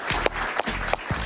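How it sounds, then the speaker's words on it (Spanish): A studio audience on a television talk show claps in a short burst, with a few sharp, distinct claps standing out over a low murmur. "Un aplauso para él, por favor."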